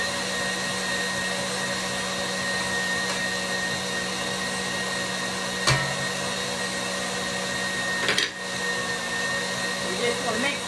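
An electric mixer runs steadily on high speed, beating meringue as sugar goes in. It makes a close, continuous whirring hum with a couple of brief knocks against the bowl.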